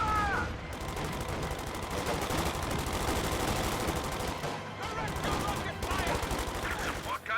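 Dense rapid gunfire crackles continuously in a World War II real-time strategy game, with machine-gun bursts and explosions layered throughout the battle.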